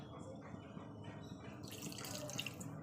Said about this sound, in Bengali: চলুন আর একটু জল দিয়ে দিই অল্প করে